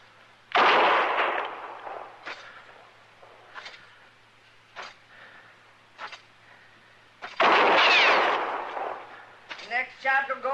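Gunshots in a western radio drama, two loud sharp blasts several seconds apart, each with a ringing tail, alongside short clicks and knocks and a voice at the end.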